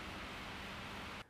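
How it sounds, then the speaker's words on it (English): A running fan fills the recording with a steady, broadband hiss like pink noise. It holds at an even level, then cuts off abruptly just before the end. "I wonder if I'm able to remove the noise of the fan from the recording."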